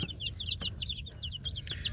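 Free-range village chicks in a box peep in rapid, high chirps, several birds calling over one another continuously at close range.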